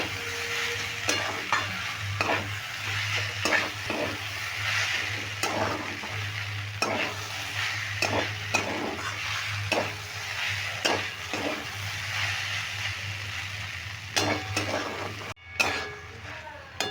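Grated papaya and chana dal stir-fried in a pan, a continuous close sizzle with regular spatula scrapes and light clinks against the pan every second or so, one brief dropout near the end, with no voices.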